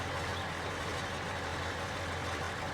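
Steady idling diesel rumble from a White Field Boss Series 3 tractor in Farming Simulator 19, a constant low throb held at even loudness throughout with no voices.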